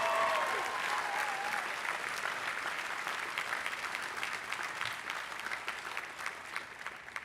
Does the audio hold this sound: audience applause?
yes